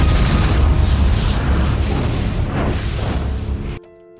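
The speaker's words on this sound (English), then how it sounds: "and there was a huge explosion." A huge explosion unleashed by demonic powers erupts as a loud, sustained roaring blast with deep rumble, then cuts off abruptly into near silence.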